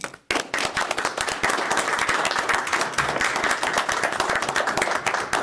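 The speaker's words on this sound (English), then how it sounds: "applause for what they've done for Dickinson County." A hall audience at a county board of supervisors public hearing breaks into sustained, loud applause, dense clapping that starts abruptly and continues steadily throughout.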